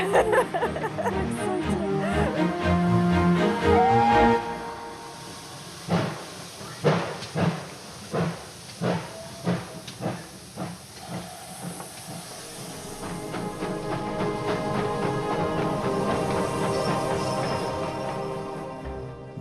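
A steam locomotive on a Devon railway, with a strong steady hiss of escaping steam, then a run of rhythmic chuffs as it pulls away before settling into a continuous rolling rumble.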